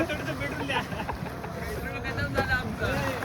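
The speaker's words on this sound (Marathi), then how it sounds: "ते बोट येत आहे आमच्याकडे पेट्रोल द्यायला." A boat approaching on water, engine hum and splashing mixed with gusts of wind across the microphone, with people talking over it.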